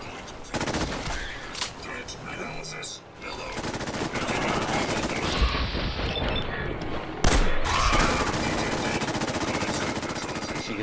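A companion in Fallout 4 gunning down mole rats: dense, continuous rapid gunfire and blasts that fill the whole stretch, loud and close, with a voice talking underneath.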